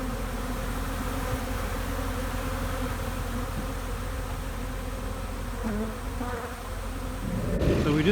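Honeybees buzz around their hives in a yard during honey pulling, a dense, continuous drone that stays close and full throughout, with brief rustling handling noise near the end.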